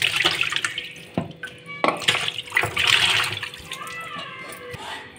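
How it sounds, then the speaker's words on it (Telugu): Fish pieces are washed by hand in a bowl of water with lemon juice, with close splashing and sloshing and bursts of running tap water, the sounds coming in irregular bursts. "ఇంకా నిమ్మరసం ఇలా వేసి బాగా కడుక్కోవాలి."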